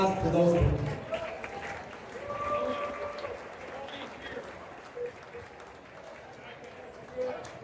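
A school audience applauds at a Tipton High School hundred-year celebration. A dense burst of clapping opens the clip, then fades into a softer crowd murmur with voices talking over it.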